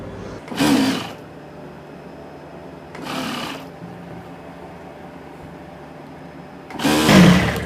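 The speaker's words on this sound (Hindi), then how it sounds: "और यहाँ से हम सिलाई लगाना शुरू करेंगे बुकरम के साथ साथ, इस तरह से।" A sewing machine stitches a trouser waistband together with buckram in three short whirring runs separated by quiet pauses, the last run being the loudest, with a low background hum and no talk.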